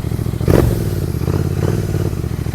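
A motorcycle idles up close with a low, throbbing engine note, then gives a short, sharp rev about half a second in before settling back to a steady idle.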